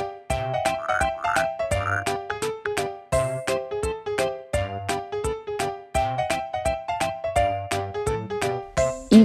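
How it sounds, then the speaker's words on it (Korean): A frog croaks over and over in a steady, regular rhythm of loud, close, throaty calls, with no voices around. "frog"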